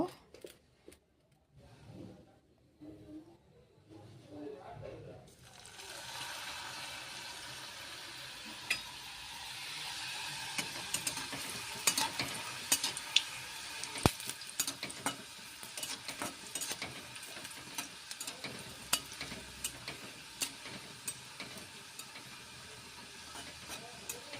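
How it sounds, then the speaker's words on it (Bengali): Nimki pastries frying in hot oil in a pan, a steady close bubbling sizzle that starts after a few quiet seconds and carries on with scattered crackles and stirring clinks. "এদিকে ভাজা হচ্ছে, দেখো এইভাবে লালটি লালটি করে ভেজে নেব আমি"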